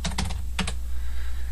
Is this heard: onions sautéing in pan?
no